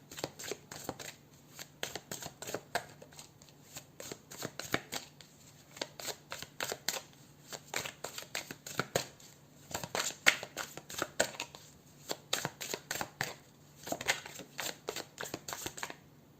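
Tarot cards are shuffled over and over in quick riffling bursts with short pauses between them, a crisp papery flutter close to the mic and no voices.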